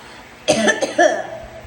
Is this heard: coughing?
yes